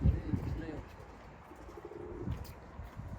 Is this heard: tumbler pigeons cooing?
yes